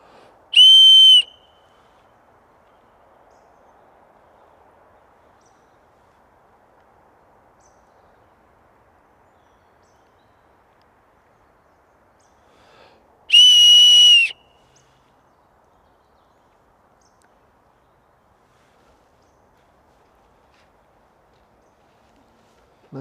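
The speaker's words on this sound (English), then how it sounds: "Let me try the whistle one more time." A whistle blown twice at night in the woods, two loud, steady high-pitched blasts about twelve seconds apart, with quiet, near-silent forest ambience between them.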